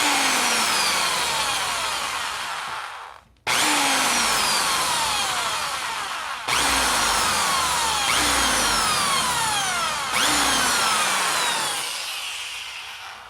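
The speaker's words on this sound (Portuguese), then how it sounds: "Para gravar para vocês ali a furação" A power drill bores into a carbon fiber bicycle frame during a repair, its whine sliding downward in pitch across four long bursts separated by brief pauses, loud and close.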